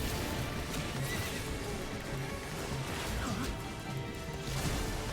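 A Kelpie, a seahorse-like mount creature in the video game Final Fantasy XIV, lets out a loud whinnying neigh over a dense, busy game soundscape with music and effects throughout.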